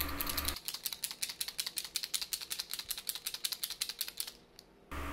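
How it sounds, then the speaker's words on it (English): Rapid rhythmic rattling of a small ball clacking inside an oil-based paint pen as it is shaken, about two dozen quick close clicks, then it stops briefly. "You have to shake your paint pens."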